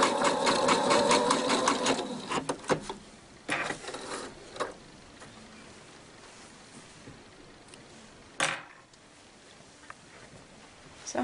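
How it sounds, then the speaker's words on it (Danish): Sewing machine stitching a dress seam on a girl's dress: a brief run of rapid stitching at the start, then scattered short bursts and clicks over quiet room noise. "Når jeg syr stikningen her til at holde, så sørger jeg for, at jeg ikke overskrider den centimeter"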